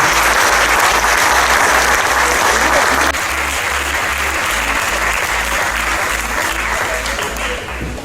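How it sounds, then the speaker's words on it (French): Strong, continuous applause from a crowd at a volleyball team presentation as a 1.94 m, 22-year-old player receives his official jersey, with a steady thumping beat of music underneath. "On peut l'applaudir évidemment."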